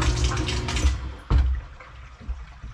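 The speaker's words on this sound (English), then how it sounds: "listen to the pump start and stop one last time for peace of mind" A low churning water sound with a submersible pump's motor hum that cuts out, then a brief surge and fading trickle as the pump starts and stops.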